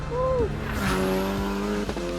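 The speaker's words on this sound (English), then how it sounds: "This car is just so enjoyable to drive." Ariel Atom lightweight high-power sports car driving: a loud, close engine roar with a sweeping rise in pitch, a shift, then a sustained throaty drone with a brief tire chirp.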